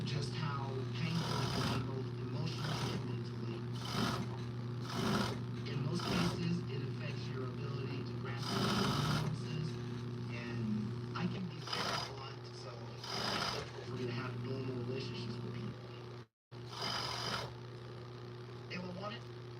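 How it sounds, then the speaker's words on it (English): A sewing machine stitches a leg hole on dancewear in repeated short bursts over a steady hum, with a person talking throughout. "This is the leg hole that I'm sewing right now."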